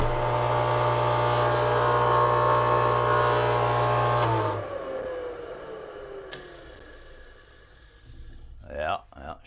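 A shop air compressor motor, its pump faulty, hums steadily and fairly loud after being plugged in, then winds down with a falling whine and goes quiet before a voice speaks briefly.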